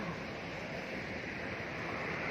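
Strong, plentiful floodwater rushing through a drainage channel near Mittraphap Road toward Ban Makluea Kao in Korat, a steady dense roar with no breaks, loud and close throughout.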